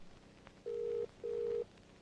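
A telephone ringback tone on an outgoing call, two steady electronic tone bursts of about 0.4 seconds each separated by a short gap, clear and alone with no talking.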